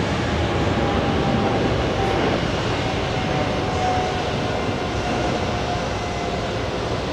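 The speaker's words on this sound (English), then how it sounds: "Airways jet flying to Heathrow this time, racing down the runway, lifting off right now" British Airways jet bound for Heathrow taking off from JFK, a steady broad engine roar that holds loud and even throughout, with a faint whine layered on top and no talk.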